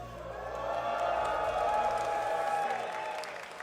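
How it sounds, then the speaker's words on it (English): An esports event audience at a 1v1 tournament final cheers and applauds, a broad wash of clapping and crowd noise swelling and then fading, heard from a distance. "Can we cheer?"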